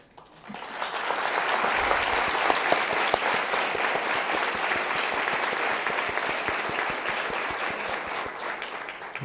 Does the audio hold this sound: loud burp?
no